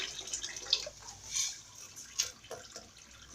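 Water is poured into a simmering tomato sauce in a pot while cooking a trotters dish: faint scattered drips and light splashes, quiet and close, with no speech.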